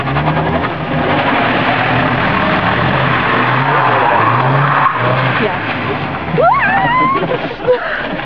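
A car spins doughnuts in first gear, its tyres skidding and squealing loudly and continuously up close, with the engine underneath and voices calling out near the end.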